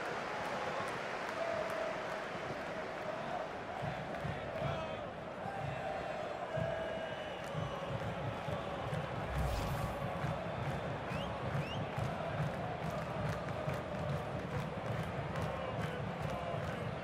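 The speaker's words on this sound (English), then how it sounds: "the crowd were on their feet" A steady stadium crowd roar from a FIFA 20 match between Colorado and New England, a constant broad murmur with faint swells, heard under commentary voices.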